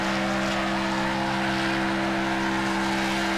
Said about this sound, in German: Und jetzt gebe ich schon wieder Gas. Und, wow, 350 Grad Drift.